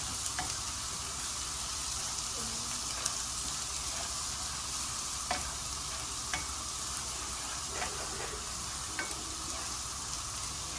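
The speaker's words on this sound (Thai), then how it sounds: "เจียวกระเทียมให้ให้สุก แต่ยังไม่ต้องไม่ไม่ไม่ใช่ให้กรอบนะ" Garlic, plenty of it, frying gently in hot oil for a Thai salt-and-chili shrimp stir-fry, giving a steady soft sizzle with scattered small pops and crackles throughout, no voices.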